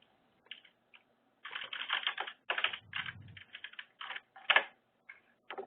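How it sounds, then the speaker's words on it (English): Computer keyboard typing during a webinar: rapid, close-up bursts of keystrokes in irregular clusters separated by short pauses, with no talking over them. "I hear typing, fervent typing."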